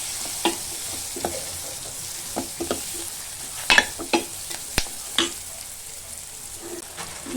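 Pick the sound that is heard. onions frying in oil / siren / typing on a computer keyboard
onions frying in oil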